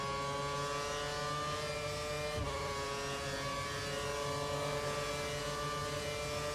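F1 race cars in a video game, a steady engine drone holding a constant high pitch throughout, with a brief bump midway, no voices.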